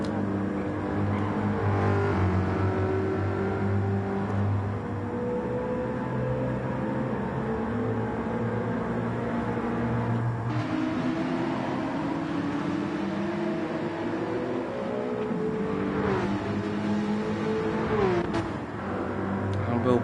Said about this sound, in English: some of these V8s, they don't sound like they're moving, they sound like they're hardly revving